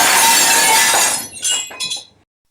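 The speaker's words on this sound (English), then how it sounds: "One such day, after Ukeme mistakenly broke a tray of glass plates," A tray of glass plates crashes and shatters, a loud close burst followed by a few scattered tinkling fragments before silence.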